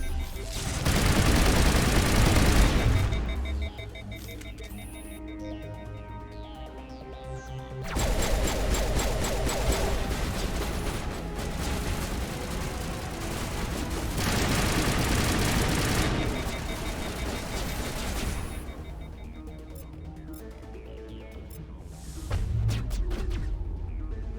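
Bursts of gunfire from the Mass Effect Legendary Edition shooter, loud volleys and rapid automatic fire with booming impacts, coming in several heavy clusters over a layered game soundtrack.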